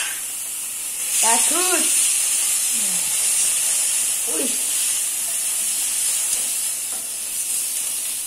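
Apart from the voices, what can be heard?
spice mix with shallots added to pan, sizzling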